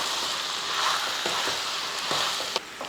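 Tomato, onion and capsicum sauté in a hot pan with a continuous bright sizzle, punctuated by a few soft knocks of stirring; close and steady, no talking.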